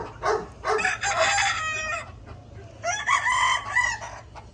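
A chicken about to receive a fowl pox vaccination gives two loud, close crowing calls with clucks between them, with no talking.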